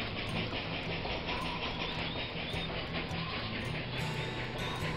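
A train climbs a steep grade on the Brenner route in the video game Railroad Tycoon 2: a steady, dense rolling rumble with faint rhythmic clacking, heard alone at moderate volume.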